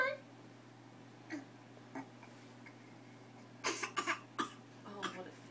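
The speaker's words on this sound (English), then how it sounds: "Oh, what a fake cough." Someone gives a few short, playful fake coughs in quick succession, close and soft, set among quiet ticking sounds and light background speech.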